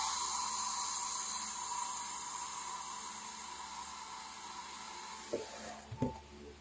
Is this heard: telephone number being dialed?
no